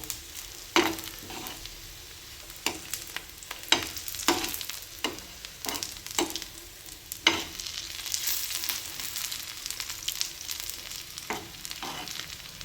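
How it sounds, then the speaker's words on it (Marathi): Grated coconut and onion roast together in a pan with a soft sizzle, broken by repeated sharp scrapes and knocks of a spoon stirring at an irregular pace. "अशा पद्धतीने मस्त खोबरं आणि कांदा एकत्र भाजून घ्यायचा आहे"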